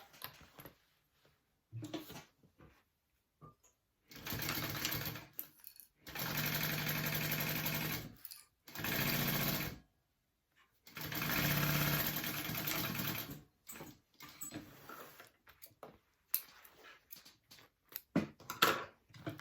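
A sewing machine basting a lining piece onto a tote bag runs in four or five steady bursts of a few seconds each, with quiet pauses between them and light handling noise around them.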